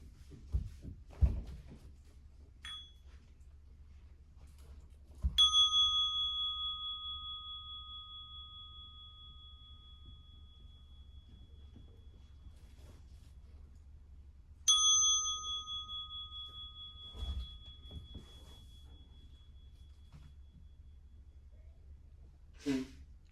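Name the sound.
meditation bell rung three times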